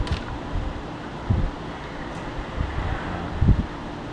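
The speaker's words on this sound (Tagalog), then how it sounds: "Lakas ng hangin." Strong wind at roughly 50 km/h buffets the microphone outdoors, a continuous rushing roar with gusty bursts and no talking.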